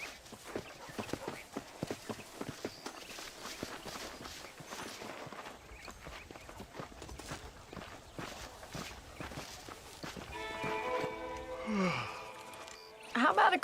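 Horse hooves clip-clop at a steady walking rhythm in the Red Dead Redemption western video game, soft and fairly close, with game voices and ambient sounds mixed in over the hoofbeats.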